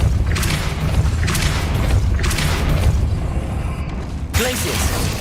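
Depulso force-push spell cast in the video game Hogwarts Legacy, a series of heavy booming impacts in quick succession followed by a sharper burst near the end.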